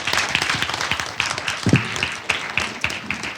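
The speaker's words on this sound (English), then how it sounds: "thank you for giving a round of applause" A panel audience at a comics convention gives a steady round of applause, dense crowd clapping with a few sharper individual claps standing out, continuing throughout.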